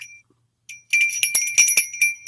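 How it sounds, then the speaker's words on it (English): A small cowbell rings in a bright, metallic tinkle, shaken several times in quick irregular strikes after a brief pause, heard alone and close. "I got the little cowbell."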